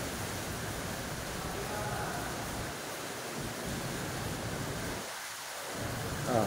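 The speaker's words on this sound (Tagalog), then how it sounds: "Lakas ang ulan dito, oh." Steady, dense roar of heavy typhoon rain pouring down amid flooding, a constant broadband hiss filling the whole clip with no pauses, close and loud.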